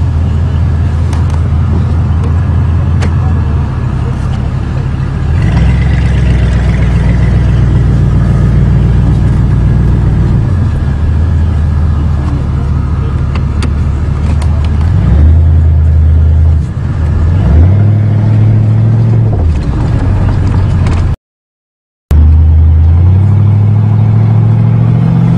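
A rusty old 1985 Oldsmobile car's engine drones loudly on a test drive, with steady cabin rumble and several rising revs as it accelerates, then a brief dropout before the engine noise resumes.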